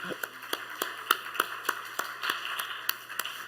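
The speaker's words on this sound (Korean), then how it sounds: "우리 환영의 박수 하도록 하겠습니다" Sparse, irregular claps from a church congregation welcoming someone back: a handful of distinct sharp hand claps spaced unevenly over a quiet room hum, with no talking over them.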